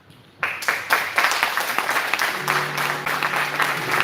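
An audience bursts into applause after a book presentation, sudden dense clapping that holds steady for several seconds with a faint tone underneath.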